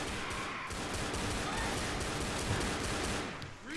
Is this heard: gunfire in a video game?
yes